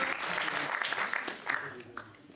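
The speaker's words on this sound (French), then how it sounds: "On applaudit bien fort Romain." Brief round of applause from an association audience at a film preview, a short burst of clapping with a few voices that fades out within a couple of seconds.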